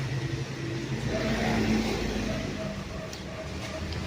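A new car's engine idling and gently revving nearby, a steady low rumble that swells slightly midway and then settles, with no talking.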